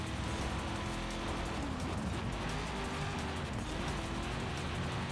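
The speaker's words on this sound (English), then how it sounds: "This is a good sounding car. I like the sound on this car." A car engine in a Forza racing video game drones continuously with a noisy, revving roar, steady and close, without any voices.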